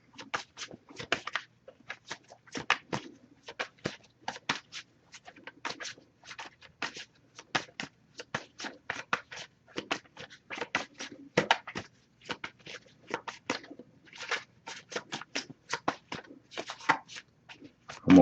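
Continuous rapid riffling of a card deck being shuffled, soft crisp flutters repeating steadily for a long stretch, close and fairly quiet.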